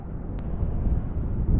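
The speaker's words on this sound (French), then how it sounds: "C'est méga fort, il y a tellement de vent" Strong wind of about 100 km/h roars and buffets against the microphone during a paragliding flight, a dense, continuous low rumble with no let-up.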